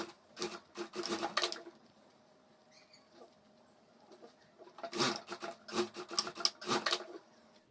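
Sewing machine stitching a handle onto a homemade school bag, two bursts of rapid rhythmic needle chatter, close and fairly quiet, separated by a pause with faint handling noises.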